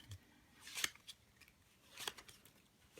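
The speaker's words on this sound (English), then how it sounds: "you're taking the top and bottom card off and peeling them off and putting them down" Playing cards peeled off the top and bottom of a deck and set down, two crisp papery snaps close by with faint rustling between.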